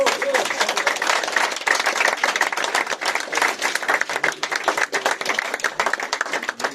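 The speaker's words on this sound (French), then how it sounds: "Donc je pense que vous pouvez les applaudir avant toute chose." A crowd at a New Year's greetings event in Beauvais applauds, with loud, sustained clapping from many people close by and a voice faintly audible underneath.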